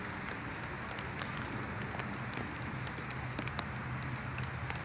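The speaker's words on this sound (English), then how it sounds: "Got some rain here, folks." Rain falls on an outdoor disc golf course during a tournament round, making a steady, soft patter with scattered sharper drips close by.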